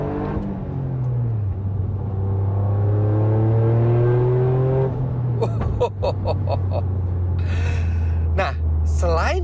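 Toyota GR Yaris with its iMT manual gearbox, fitted with a Remus aftermarket exhaust, revving as the engine rises and falls in a loud near drone through a downshift, followed by crisp pops and crackles, with a person reacting aloud over it.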